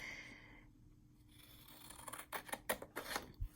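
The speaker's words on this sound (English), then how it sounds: "Now I'm going to cut off the top, and this is going to be the bottom piece, okay? Scissors." Quiet rasping snips of scissors cutting paper, several uneven cuts in the second half after a near-silent start.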